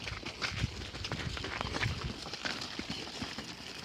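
Horse walking through a cattle pasture while rounding up cows, hooves thudding in an irregular clip-clop close by, with rustling and faint background noise throughout.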